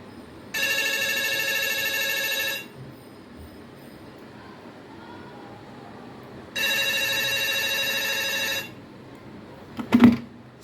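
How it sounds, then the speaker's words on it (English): A landline telephone rings when dialed from a mobile: two long, loud electronic ring bursts about two seconds each, separated by a pause, then a brief clunk as the handset is handled. "I'll be dialing the telephone number via another mobile."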